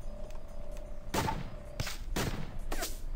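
Gunshots from the video game Quadrilateral Cowboy, four sharp bursts spaced about half a second to a second apart over a steady low background hum, fairly loud and close.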